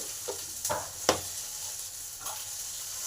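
Panch phoron spices sizzle in hot oil in a kadai with a soft, low crackle, broken by a few brief stirring scrapes and taps; no one speaks.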